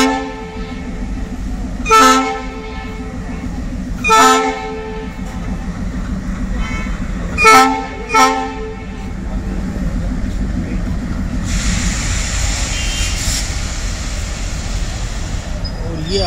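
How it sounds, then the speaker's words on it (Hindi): Train 22471 from Bikaner to Delhi Sarai Rohilla, hauled by twin Alco WDM-3 diesel locomotives in heavy fog, passes close by with a loud diesel rumble. Several sharp horn blasts ring out in the first half, and wagons clatter steadily afterward. "और इस प्रकार ये गाड़ी अर्ली इन द मॉर्निंग में आ रही है, 2 घंटे विशेषकर लेट है फिर भी आ रही है।"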